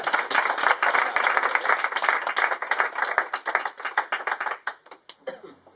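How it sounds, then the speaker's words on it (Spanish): Audience applause: a dense burst of many hands clapping close by, which thins into scattered individual claps and fades out over several seconds. "Un fuerte aplauso para Alejandro, por favor."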